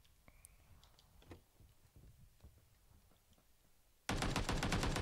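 Enemy gunfire in a shooter game bursts in as a loud rapid string of shots in the final second, after a stretch of quiet scattered clicks and faint background noise.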